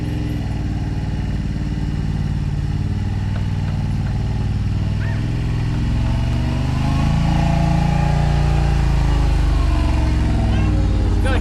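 A Yamaha Rmax side-by-side on 32-inch tires drives trails, its engine a loud continuous close drone that rises and falls with throttle, while a person talks over it.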